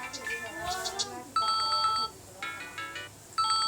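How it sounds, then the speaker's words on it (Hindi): A mobile phone ringtone plays in repeated bright electronic bursts, loud and close, alternating with someone talking between the rings. "मैंने यहाँ से रिंगटोन का जो साउंड लगाना चाहता हूँ वो लगाना मैं आपको दिखा रहा हूँ।"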